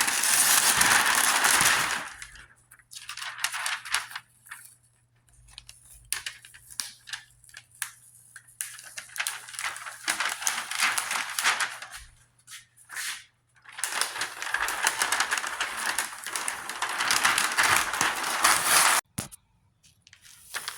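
A layer of Rust-Oleum truck bed paint being slowly peeled off a tailgate, a close crackling, tearing rasp in long bursts separated by brief pauses.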